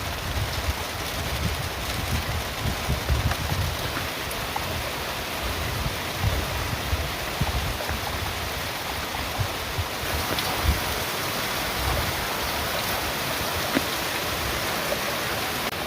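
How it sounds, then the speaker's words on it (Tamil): Heavy rain pours steadily outdoors beside a 3 hp solar-powered pump motor, a dense, continuous hiss with low rumbling spatter throughout, loud and unbroken, with no voices. "சரியான மழை"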